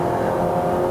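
Hybrid engine of a 2023 Honda Civic e:HEV RS on a mountain climb, a steady synthetic gear-shift style engine tone heard from inside the car, loud and continuous for a moment.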